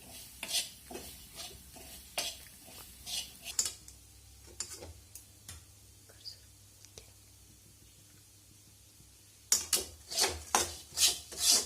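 Cluster bean curry stirred in a pan: irregular scraping and clinking strokes of a spoon against metal, a busy burst, a quieter pause, then another run of stirring, with faint background hum.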